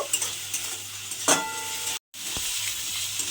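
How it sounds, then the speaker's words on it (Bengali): Chopped tomatoes with salt and spices sauté in a pan, a soft, even sizzle with occasional spatula scrapes against the metal and one brief drop to silence. "দিয়ে এবার সমস্ত কিছু একটু কষিয়ে নেব।"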